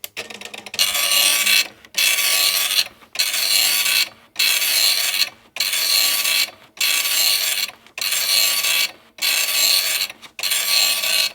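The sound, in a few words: Epson RX-80 dot matrix printer running self-test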